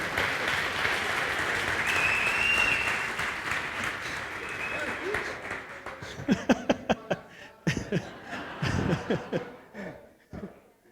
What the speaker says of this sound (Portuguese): Uma salva de palmas, pastor Eros.